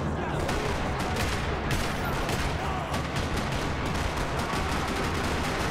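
Constant dense gunfire in the Max Payne 3 video game, a steady roar of shots that never lets up, loud and unbroken for the whole stretch.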